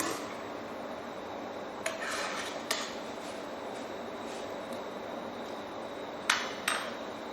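Spoon stirring gnocchi napolitana tomato sauce with chili in a pan, giving a few faint, sparse clinks and scrapes against a steady quiet kitchen background.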